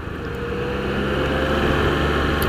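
Steady, loud three-cylinder engine drone from a 2016 Triumph Trophy motorcycle that holds and builds slightly, with rushing wind noise over it.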